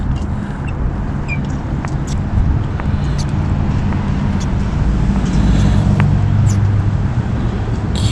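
A John Deere two-stroke string trimmer built in June 2001 is started after choking and priming, and its engine runs with a loud, close, steady buzz through the whole stretch, with no talking over it.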